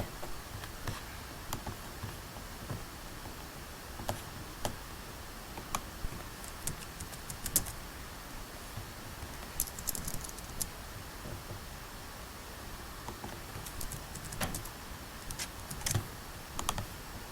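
Quiet, uneven typing on a computer keyboard goes on for a long stretch, irregular key taps scattered in bursts with a louder keystroke now and then, no talking.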